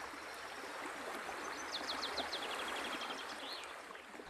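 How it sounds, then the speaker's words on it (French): Steady rippling flow of a stream fills the scene at moderate level, a continuous watery wash with a few faint bird chirps rising briefly above it, no voices present. "ou l'ondulation de l'eau."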